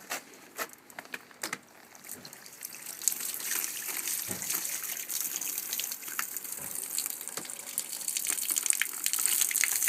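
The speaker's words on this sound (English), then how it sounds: "I'm going to have a go at trying to encourage the water to come out." A thawed frozen tap, coaxed with hot water, starts letting water out: scattered drips and splashes at first, then a steadily building stream gushing and pattering close by, without talk.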